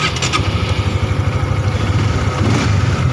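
A stock motorcycle with its ECU not yet remapped, revved hard against the rev limiter, giving a loud, continuous, buzzing engine roar with rapid pulsing throughout, close to the listener.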